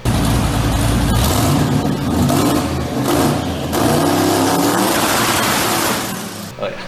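Twin-turbo LS-swapped Nissan 240sx engine revs loudly and close, a steady roaring drone with brief dips and swells, while a voice speaks briefly over it.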